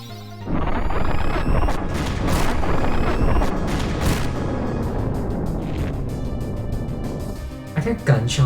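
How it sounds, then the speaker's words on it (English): Booming battle sounds from the Final Fantasy IX soundtrack crash and thunder loud and sustained, with gunfire-like blasts layered over the game music before fading near the end. "Are there gunshots in this soundtrack?"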